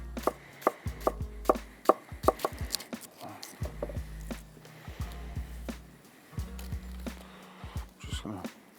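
A knife chops a spring onion on a cutting board, a quick run of close, sharp thuds that pauses and starts again several times, with a low hum under the strikes.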